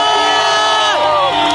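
A large crowd celebrating a victory in the streets of Vilnius, loud sustained cheering, whooping and shouting from many voices, dense and close.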